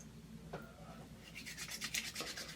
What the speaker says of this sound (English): I'm just rubbing that all around and really rubbing that in and getting all over my face and under my chin